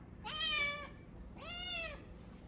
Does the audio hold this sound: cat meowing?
yes